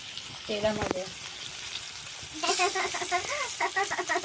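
Curry leaves and garlic frying in oil over a wood-fired stove, with loud crackling sizzle bursts and stirring, a quieter pause, then renewed spluttering near the pan.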